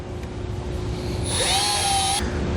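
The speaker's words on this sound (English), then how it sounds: "when you drill in, you're going all the way through the hat channel to the bottom side" A power drill whines for about a second as it bores through the hat channel of a 2013 Ram 2500 truck bed while a base rail kit is installed, a high-pitched, close tone over a steady background hum.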